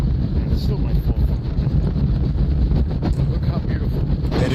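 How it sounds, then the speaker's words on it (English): Heavy wind buffeting a phone microphone outdoors near water, a loud rumbling, gusty roar that fills the whole clip with constant low-frequency thumping. "That's how windy it is."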